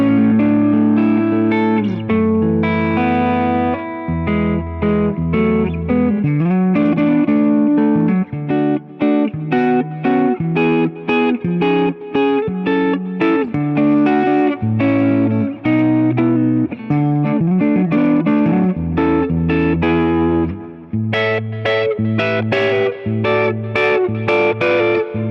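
Epiphone Les Paul Standard 60s electric guitar on the middle pickup position, blending both pickups, plays a steady run of chords and single notes through effects, loud and continuous with a short pause near the end before strumming resumes.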